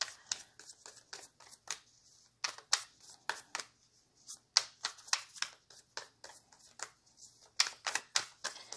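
Close, crisp tarot card shuffling in repeated quick bursts, a rhythmic series of riffles and snaps with short pauses between, no talking.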